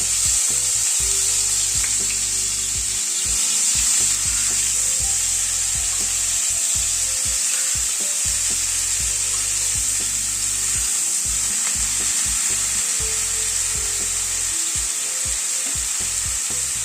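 Cauliflower and broccoli frying in hot oil with spices, a loud, steady, dense sizzle that continues without a break, with faint stirring scrapes underneath.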